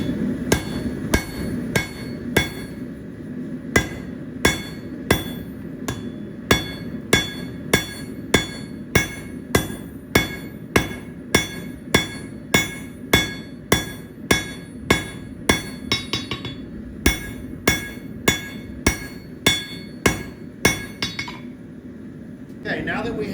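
Blacksmith hammer striking a steel bar while forging the lower jaw of box jaw tongs: a long run of sharp ringing metallic blows at a steady rhythm, close and loud, with a brief pause partway through.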